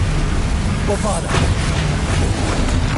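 Explosive Bombarda spell detonating in a Harry Potter video game: a sustained, heavy roaring boom with a sharper crack partway through, loud and close throughout.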